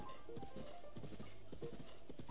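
Horse hooves clip-clopping in The Legend of Zelda: Breath of the Wild, several quick rhythmic clops with a short whinny mixed in, heard faintly behind game sounds.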